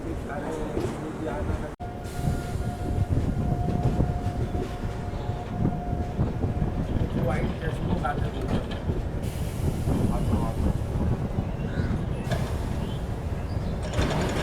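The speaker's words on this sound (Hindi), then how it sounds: "सो अपनी ट्रेन यहाँ पर 131 किलोमीटर ट्रैवल करके अराकू पहुँच चुकी है" Steady rumble and rattle of the Vistadome train running from Visakhapatnam toward Araku, a continuous loud carriage din with clattering wheels and faint hiss, voices heard over the noise.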